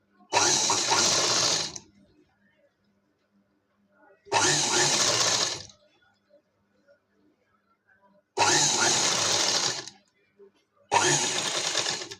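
A sewing machine stitching a katori blouse runs in four loud close bursts of rapid whirring, with short silent gaps between them.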